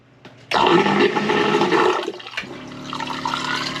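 An electric toilet on a sailboat flushes with a sudden loud rush of pumped water that holds steady for about two seconds, then drops to a quieter, continuing flow and refill.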